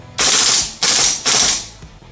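Golden Eagle MK18 MOD1 metal gas blowback gel blaster firing full-auto: three loud, rapid bursts in close succession, each a dense rattling roar, with no talking.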